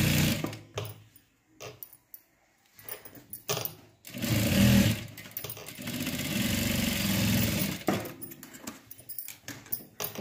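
A sewing machine stitches a blouse in several bursts of rapid, rattling motor-driven clatter, short runs at first and then a longer sustained run, separated by quiet pauses, heard up close.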